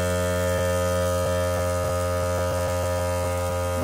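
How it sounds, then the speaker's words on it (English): A hand pump pushes new oil through a suction port into a Volvo Penta IPS800 pod, giving a steady electric-sounding hum with regular soft strokes that speed up toward the end. "I'm going to start pumping in the new oil straight through a suction port."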